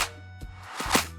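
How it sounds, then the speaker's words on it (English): Slap house drum layers hit together: a deep kick, claps layered with a snap, and a swelling reverse effect, in a short loud burst of a few hits with no talking. "All them together sound something like this."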